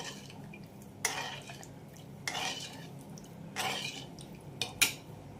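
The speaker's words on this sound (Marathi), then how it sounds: "ते पण मी सारखं सारखं ढवळत बसते" Repeated scraping and clinking of a spoon against a metal pot while stirring sugar into water to dissolve it, a few distinct strokes spaced apart over a soft liquid background.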